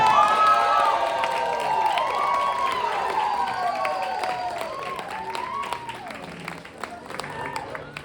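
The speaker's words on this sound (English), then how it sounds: "As if there's any more need for any more applause for Saul Hernandez." An audience at a poetry party in Los Angeles breaks into sustained applause, with loud whoops and cheers rising above the clapping after a poem.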